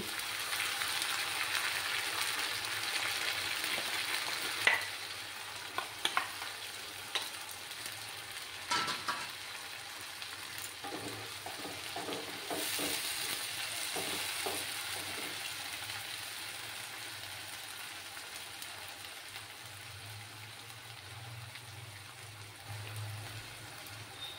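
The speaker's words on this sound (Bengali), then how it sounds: "এবার আমি এই যে টমেটো, আদা আর রসুনের পেস্টটা দিয়ে দিচ্ছি" Tomato, ginger and garlic paste sizzles steadily in a hot pan, a continuous close-up frying hiss broken by a few soft clicks and scrapes of stirring, with no one talking.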